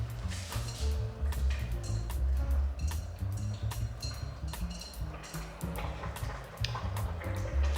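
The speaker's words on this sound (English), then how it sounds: "The amazing simmer and boiling almost of the minestrone soup." Continuous bubbling and popping of a pot of minestrone soup simmering near a boil, with irregular crackles and small splashes over a steady low rumble.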